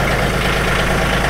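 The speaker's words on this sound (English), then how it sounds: "Get the tractor started." A John Deere 3033R compact tractor engine idles steadily after starting up to warm, a continuous low rumbling drone with even vibration, close and fairly loud throughout.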